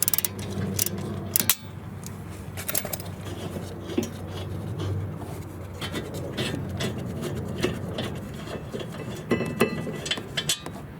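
A ratchet works on tight rear brake caliper bolts of a Lexus UX, giving close, irregular metallic clicks and clacks over a steady low hum, with no talking.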